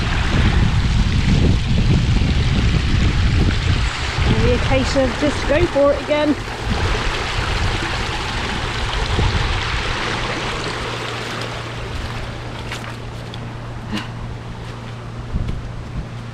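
A shallow stream rushes steadily and close by during a countryside walk crossing near Smethcott, loud and broadband at first and then easing, with someone speaking briefly over it.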